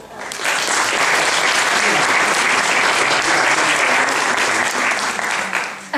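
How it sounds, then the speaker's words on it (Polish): Sustained audience applause at a ceremony following a lecture, dense steady clapping filling the room for about six seconds at even loudness. "Jeszcze raz gromkie brawa."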